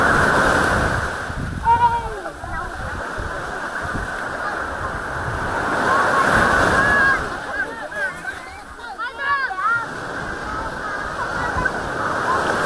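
Big waves crash and slosh steadily against a beach shore at a resort in Ilocos Norte, Philippines, a loud continuous roar of surf with swelling surges, while people talk over it.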